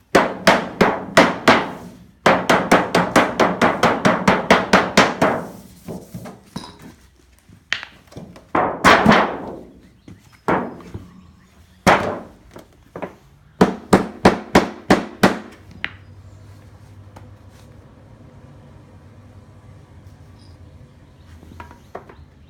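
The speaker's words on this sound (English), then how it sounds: "And then you can take your hammer." Rapid bursts of sharp hammer strikes on metal flashing over a wooden beehive outer cover, then slower scattered blows with pauses, ending in a quiet stretch; no talking.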